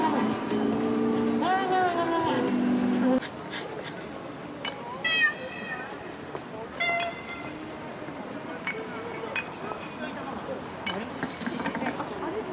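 The giant 3D cat billboard in Shinjuku, Tokyo, gives out several bright meows over loud city street noise and traffic, with people talking nearby.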